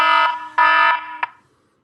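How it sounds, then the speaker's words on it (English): A loud electronic buzzer sounds in close bursts, two long harsh tones and a short final blip, then silence, with no talking over it. "perfectly timed for the buzzer"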